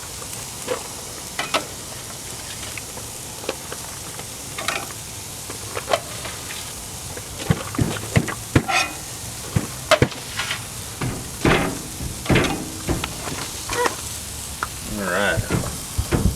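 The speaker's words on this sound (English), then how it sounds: "Ooh, listen to that sizzle." Food sizzles steadily on a hot Camp Chef Pro60X griddle outdoors at a campsite, with scraping and tapping of a utensil and a brief spoken remark.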